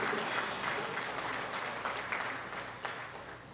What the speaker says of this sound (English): I'd like you all to give them a round of applause,